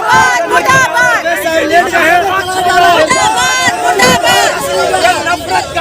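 A protest crowd in Shaheen Bagh shouts slogans against bulldozer demolitions, many voices chanting and yelling together in loud, overlapping bursts close by, with steady hubbub throughout.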